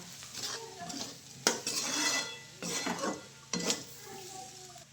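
A spoon stirs peanut paste into an onion chutney in a pan, with a few distinct scraping strokes against the metal over a low sizzle, close and fairly quiet, no voices.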